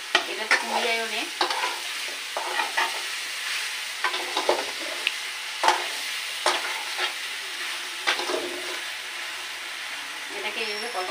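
Ridge gourd and shrimp fry in oil while a utensil stirs them repeatedly: scraping strokes and a sizzle come in irregular bursts over a quiet background, and a voice talks at points.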